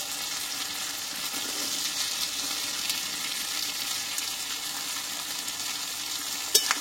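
Potatoes and onion fry in fish oil in a pan, making an even, continuous sizzle with a brief clatter of stirring near the end.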